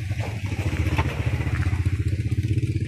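Motorcycles pass close by on a rough road, their engines puttering with a steady, rhythmic low chugging that stays loud throughout, with some light clatter on top.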